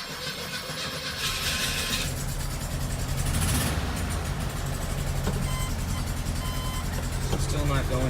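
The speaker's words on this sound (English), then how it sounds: "Car's in neutral, start it up." A 1973 car with an Autostick semi-automatic transmission and a newly installed servo cranks and fires up in neutral, the engine catching and settling into a steady running drone, with a persistent beeping tone heard over it.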